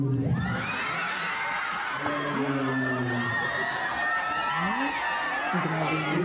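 A dense crowd cheers, whoops and shouts continuously, with excited screams rising over the roar at a lively fan event, loud and sustained throughout.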